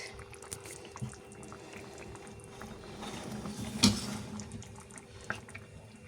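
Tomato and bell pepper curry simmers in a pot, a low steady bubbling with faint clicks and one sharper clatter near the middle, with no talking.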